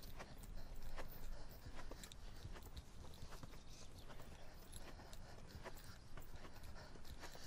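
A dressage horse's hooves clip-clop steadily on an arena surface during schooling, a soft rhythmic patter of footfalls over a constant rustling background, with no talk.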